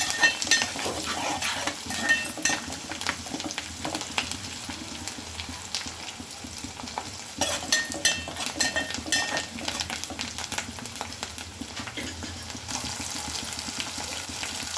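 Chicken fries in a pan with curry leaves for a bachelor-style pepper chicken fry, a continuous close sizzle mixed with frequent scraping and clinking of a spatula against the pan.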